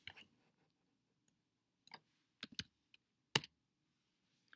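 Sparse, quiet key presses on a computer keyboard as a value is entered, a few isolated clicks separated by pauses, with near silence between them.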